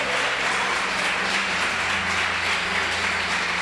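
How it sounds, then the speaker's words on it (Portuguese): A church congregation applauding during a sermon, a steady, dense wash of many hands clapping together, even and sustained from start to finish with no voices on top. "Você pode aplaudir ao Senhor?"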